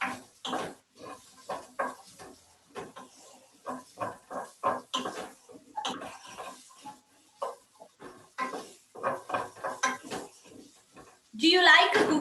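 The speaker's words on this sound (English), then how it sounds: "so here I have my wooden spoon and we can stir it" A wooden spoon stirs kidney bean curry in a pot, making repeated soft scraping and clunking strokes against the pot in an uneven rhythm, close and fairly quiet, ending with a louder clatter.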